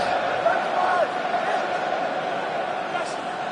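French rugby supporters fill a stadium for a France v England match, a steady distant roar of crowd noise with faint chanting, continuous and moderately loud.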